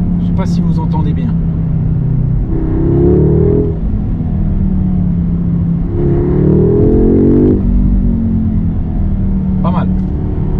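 A daily-driver car engine blips and revs twice in bursts over a constant low rumble, near and fairly loud, with a voice briefly heard near the end.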